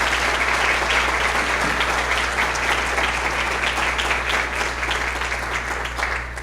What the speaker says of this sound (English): round of applause for all of our teachers of the year that are in the room right now